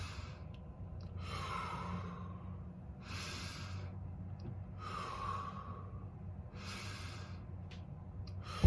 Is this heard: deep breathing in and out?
yes